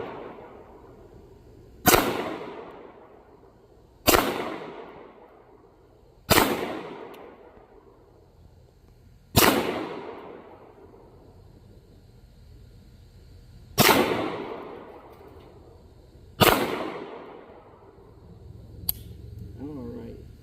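A Beretta 92A1 pistol fires six sharp, loud single shots at targets outdoors, spaced a few seconds apart, each with a short ringing decay before the next.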